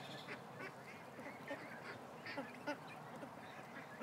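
Ducks quack repeatedly at a steady distance outdoors, short nasal calls popping up every half second or so over a constant hiss of ambient noise, with no talking.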